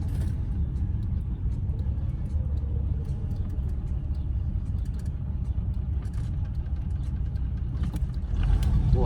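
A 1980 Chevy Monte Carlo drives along, its engine a steady, loud, low rumble with road and cabin noise throughout, swelling slightly near the end, with no one speaking.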